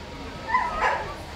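A dog gives two short, high yips at a 2013 championship dog show in Bournemouth during the gundog group judging, heard over a low hall murmur of background chatter.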